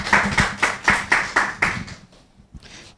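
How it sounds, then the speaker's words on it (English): An audience applauds a speaker at a transportation and climate-risk planning talk. About seven sharp, evenly spaced claps ring out close by, then the clapping thins and fades to near silence, with a single faint clap near the end. "Please give a round of applause for Professor Ruth Steiner."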